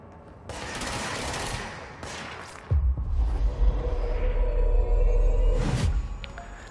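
Rapid gunfire from the video game Control, a dense fusillade of close, loud shots with whooshing effects, a brief lull, then a heavy booming rumble that surges again before fading.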